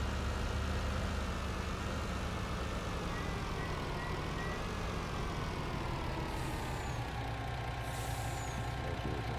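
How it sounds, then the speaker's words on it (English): Traffic rolls past in the Farming Simulator 19 video game: a steady, loud engine rumble and road noise from passing vehicles that lasts the whole stretch, with a faint hiss near the end and no talking. "Cars coming."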